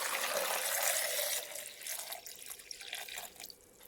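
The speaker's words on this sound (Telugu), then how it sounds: "దానికి సరిపడినంత వాటర్ పోసుకోండి." Water pours into a cooking pot holding rock salt, dried red chillies and green chillies. It starts as a loud, splashing gush, then eases into a quieter, uneven trickle that fades out.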